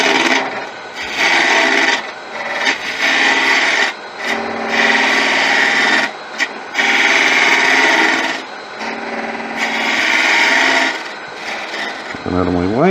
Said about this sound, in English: grab a detail gouge and bring these in